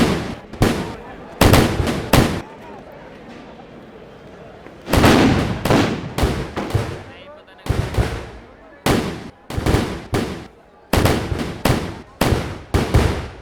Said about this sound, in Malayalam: മുൻപേ പറഞ്ഞ 1001 കതിന വെടിക്കെട്ടുകളുമാണ് നടക്കുക.